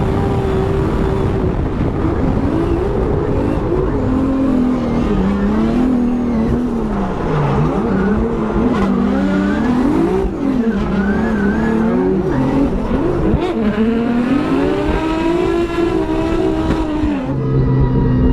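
A BMW E36 drift car running with no sway bar for the first time, held at loud continuous revs near the limiter. The engine note wavers as the throttle is blipped and tires squeal through the slide, with no talk.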